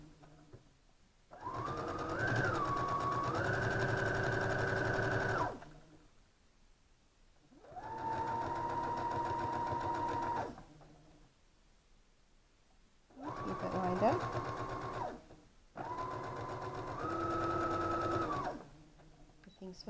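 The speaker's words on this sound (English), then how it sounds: "this time it is folded, so we have three layers of fabric that we're sewing through" A sewing machine stitches through three layers of folded fabric in four separate bursts of a few seconds each, its whirring motor pitch shifting with speed, with quiet pauses between runs.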